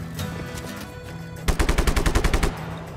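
Gunfire in the video game Just Cause 3: a few scattered shots at first, then a rapid burst of about ten automatic rounds in a quick steady rhythm, played over a low background game soundscape.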